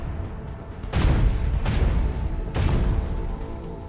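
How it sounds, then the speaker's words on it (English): Macro cannons fire in the Warhammer 40k: Rogue Trader video game, with three heavy booming blasts at roughly even intervals, each a loud, broad rumbling impact that decays slowly over a low background. "Macro cannons, open fire."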